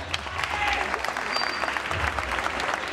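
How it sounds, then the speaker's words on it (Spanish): Audience applause at a junior freestyle rap battle, a short burst of dense clapping from a crowd with a low hum of voices and a few shouts mixed in beneath it. "¡Aplauso, gente!"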